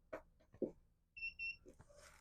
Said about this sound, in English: we'll just turn it on and you should hear 2 beeps